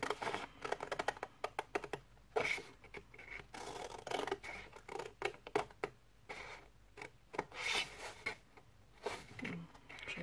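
Scissors cutting material while making a homemade DIY letterbox: quiet, irregular snipping and clicking clusters spread over ten seconds, close by, with no talk.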